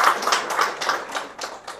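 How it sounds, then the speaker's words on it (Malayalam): Audience clapping at a short film audio launch in honour of the director, a steady patter of many hands, moderately close with no voices over it. "നല്ലൊരു കയ്യടി അദ്ദേഹത്തിന് കൊടുക്കാം."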